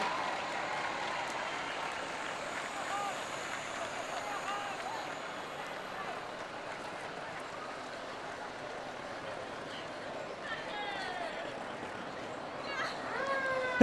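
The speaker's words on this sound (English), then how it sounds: "A big round of applause for the Temecula Fire Department." A crowd at a 2018 Fourth of July parade applauds the Temecula Fire Department's trucks, a steady wash of clapping and cheering heard fairly faint and diffuse.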